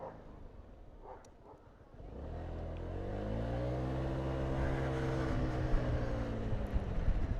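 A Honda Forza scooter engine hums quietly, then rises into a steady, louder droning note with wind buffeting the microphone.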